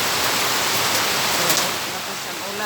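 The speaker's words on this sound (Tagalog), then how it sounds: "Tingnan nyo ang lakas ng ulan." Heavy rain pours down outside a house in a dense, steady hiss, close and fairly loud with no clear breaks, with a faint voice underneath.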